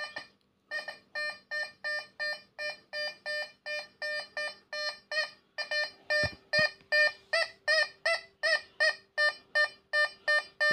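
A Find X Pro metal detector is swept over a heavy 18k gold ring and answers with a long run of evenly spaced electronic beeps, near and clear against a quiet background.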